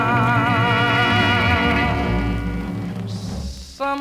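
A 1961 R&B soul record plays, with sustained wavering vocal and instrumental tones over a steady backing, cutting off near the end before a brief new note enters.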